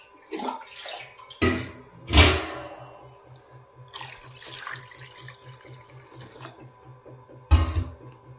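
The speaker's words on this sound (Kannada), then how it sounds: "ಎಷ್ಟು ಬೇಕಷ್ಟು ನೀರು ಹಾಕಿ" Water poured into a cooking pot on a home kitchen stove for tomato rasam, coming in a few short splashing bursts over a low steady hum, with quieter trickling between them.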